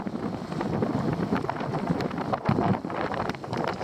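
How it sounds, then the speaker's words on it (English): Wind gusts buffet the microphone at a Welsh lakeside in winter, a loud, continuous, rumbling roar with uneven surges and no voices. "Oh, fucking windy."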